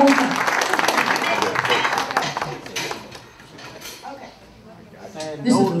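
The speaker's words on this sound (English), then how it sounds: "give me a little clapping for that, y'all, too" A youth audience at a keynote talk claps together in a loud, dense burst that fades away after a few seconds, with voices speaking over and after it.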